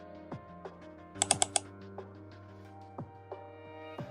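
A few scattered keystrokes with a quick burst of four clicks near the middle, typed on a computer keyboard while entering a blood donor's name into a search box, set against a steady low hum.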